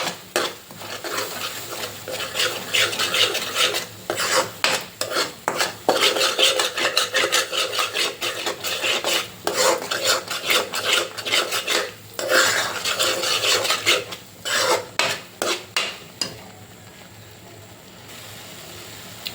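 Eggs fry in a pan over medium flame for a spicy egg gravy curry, stirred constantly with a metal spoon that scrapes and clinks in quick rhythmic strokes, close and loud, over a continuous sizzle that settles toward the end.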